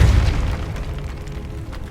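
A Depulso spell blast in Hogwarts Legacy on PS5, one deep booming burst that decays into a low rumbling tail, loud at the start and fading over two seconds.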